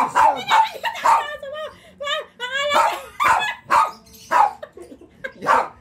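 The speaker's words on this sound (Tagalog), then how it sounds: "inaaway ka talaga ng aso ko" A dog barks and yips repeatedly in short bursts, close by, mixed with whining and a person speaking over it.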